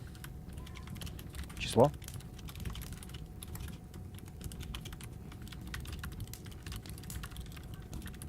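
Rapid keystrokes on a computer keyboard while programming code, a steady patter of soft clicks running throughout beneath someone speaking close to the microphone.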